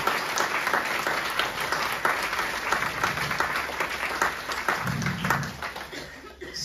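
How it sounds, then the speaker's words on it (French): A seated French audience at a thirtieth-anniversary gathering for Saint-Dominique gives sustained, even applause, with a few light chuckles rising near the end. "je vous demande de l'applaudir"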